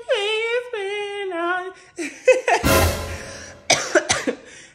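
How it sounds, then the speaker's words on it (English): A single harsh, raspy cough bursts out at close range, set among softer whimpering, wavering vocal sounds from someone who still has a lingering cough. "As y'all see, I still got my cough"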